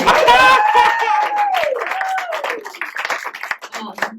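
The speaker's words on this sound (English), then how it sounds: "Let's do a round of applause for the Virgin Mary." Stand-up comedy crowd responds with a rising whoop and cheering up front, then thins into scattered, uneven claps that trail off over a few seconds in a small room.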